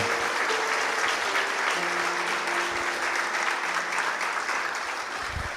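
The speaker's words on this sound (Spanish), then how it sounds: "Dale un aplauso al Señor" Continuous clapping from a church congregation, steady and fairly loud throughout, with a faint sustained tone underneath and no clear talking.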